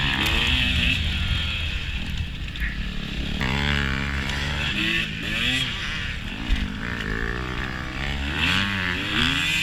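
A 4-stroke dirt bike races past during a hare scramble on a wooded pine-tree trail, its engine note rising and falling close by over the steady roar of the recording rider's own motorcycle.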